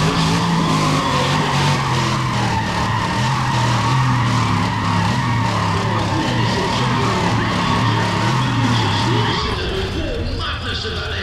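Powerful race car engine roaring in the ProStreet street-racing video game, with tires skidding and squealing under a sustained loud drone that shifts pitch near the end.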